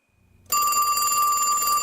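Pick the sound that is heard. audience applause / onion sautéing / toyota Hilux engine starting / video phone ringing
video phone ringing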